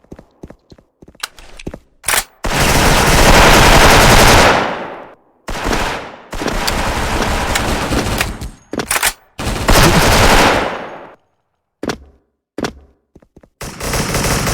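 Bursts of automatic gunfire from a DISCO M4A1 rifle in a shooter video game, loud sustained volleys of a few seconds each broken by pauses and scattered single shots.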